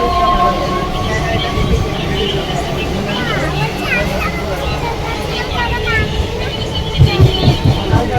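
A passenger train rolls along, heard from a window seat inside the carriage, a steady close rumble and rattle of the wheels with occasional squeals, while people talk in the background.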